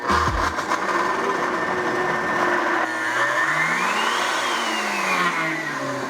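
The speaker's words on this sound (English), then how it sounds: "We're just gonna blend it up with some salt, and that's gonna be the base." A kitchen blender churns cream and salt into a smooth base, its motor whining loudly and steadily, with the pitch sliding up and down as the mixture catches and spins alone.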